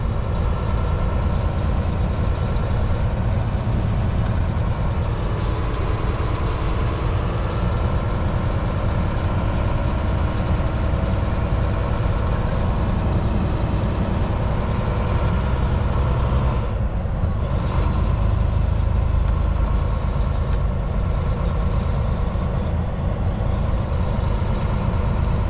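Inside a large semi truck cab driving slowly through a small Minnesota town, a steady low diesel drone and road rumble persist throughout, with a brief heavier surge midway.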